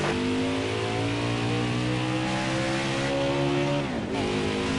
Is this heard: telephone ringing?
no